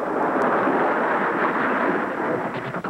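A deep, continuous rumble of thunder rolls steadily for a few seconds, loud and sustained with no talking.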